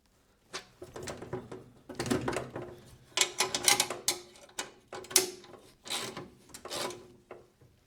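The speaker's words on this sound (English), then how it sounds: "So we'll just go ahead and get those tightened up all the way." A wrench and a 13mm socket tighten bolts on a snowblower's chute deflection mount, giving irregular metallic clicks, ratcheting and rubbing scrapes in short uneven bursts, close and moderately loud.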